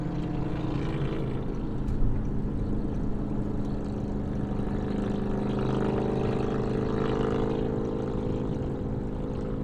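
A 2024 Toyota Crown XLE accelerates hard on a freeway, heard from inside the cabin as a steady, loud engine and road drone with heavy low rumble and wind noise throughout.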